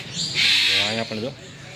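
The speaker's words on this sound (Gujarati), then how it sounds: "આમાં તો પોપટ છે" A grey parrot in an aviary at Sakkarbaug zoo in Junagadh lets out a short harmonic squawking call near the middle, fairly close, over a noisy background of ambient sound.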